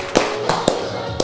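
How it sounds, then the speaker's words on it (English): A few sparse hand claps, four sharp separate smacks spaced over about a second, close and fairly loud against a quiet room background. "give yourself a hand of applause, dude. Round of applause."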